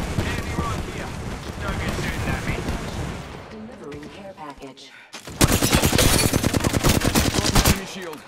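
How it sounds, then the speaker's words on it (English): The Knuckle Cluster ability fires in Apex Legends, giving a loud rapid-fire burst of popping blasts with a steady rhythm late in the clip, after busy game noise and speech. "Knuckle cluster's firing."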